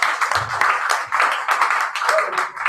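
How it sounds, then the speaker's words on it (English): Audience applause at a poetry reading night, lively clapping with uneven bursts of hands, close by and fairly loud, with voices mixed in among the claps. "Let's give another round of applause."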